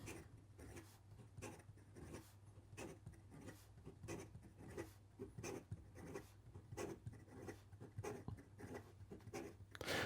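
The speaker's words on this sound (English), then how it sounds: "And in regard to some fast writing," A Spoke Design Icon fountain pen scratches quickly across paper in fast writing, a close, quiet run of rapid strokes and short rubbing bursts with no voices.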